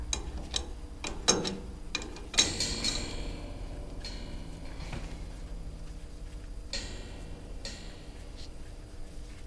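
A wrench ratchets and clanks while a fitting is tightened on a Bandit 18XP wood chipper, with quick clicking bursts and metallic knocks over a steady background hum, close and fairly loud.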